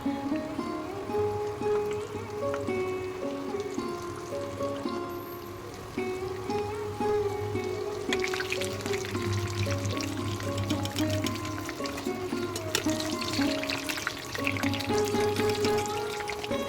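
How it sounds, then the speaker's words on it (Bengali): Lentil fritters (bora) sizzle steadily as they deep-fry in oil in a kadai, a continuous close hiss and crackle that grows busier and brighter in the second half. No one speaks. "এইভাবে আমি সবগুলো বড়া ভেজে নিচ্ছি"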